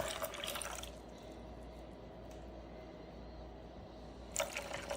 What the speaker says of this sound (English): And I'm going to add 120 grams of water.